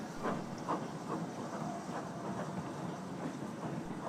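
A Great Western Railway Mogul Class steam locomotive hauling a goods train on the Bluebell Railway rumbles steadily past with a soft hiss of steam and rhythmic chuffing, heard from a moderate distance with no talking.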